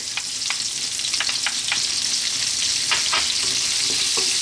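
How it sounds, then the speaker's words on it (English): Sliced onion and garlic fry over medium heat in rendered bacon fat, giving a dense, even sizzle close up with scattered pops and light scraping from stirring throughout. "bacon oil there now. Medium heat. Let's drop in our onion."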